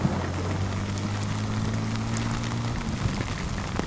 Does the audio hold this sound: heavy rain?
yes